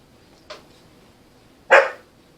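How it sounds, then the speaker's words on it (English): Two dog barks in a quiet room: a faint, short yip first, then a louder, sharper bark about a second later, slightly distant. "That's my dog in the background."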